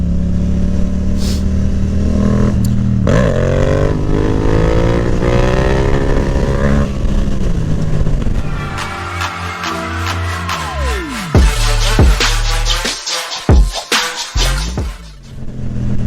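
A motorcycle rides steadily with a loud, close engine drone that climbs in pitch through the gears, then eases off as it shifts into third, with wind buffeting and rattles toward the end.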